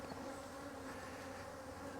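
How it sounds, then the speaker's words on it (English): Honey bees swarm around exposed wildflower honey from double-deep hives on a cloudy morning, a dense, steady buzz of many wings that holds close and even throughout, with no voices. "The bees seemed a little lethargic"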